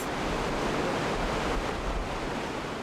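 Turbulent water churns and rushes over rocks just above a 96-metre waterfall in Canada, in a constant, broad roar, close and fairly loud, with no voices.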